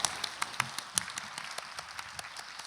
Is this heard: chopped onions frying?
no